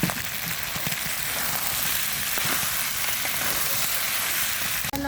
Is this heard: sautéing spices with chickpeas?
yes